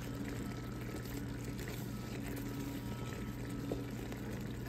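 Parmesan and cream cheese sauce for a keto chicken Alfredo bake bubbles gently in a pan, a soft steady simmer with faint popping and a low constant hum underneath, no talking.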